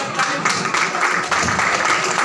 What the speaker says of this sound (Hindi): जोरदार तालियों से अभिनंदन करते रहे।